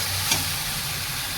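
Onion and tomato masala frying in oil for a spicy jackfruit seed curry, a steady close-up sizzle with a faint scrape of stirring, continuous and even throughout.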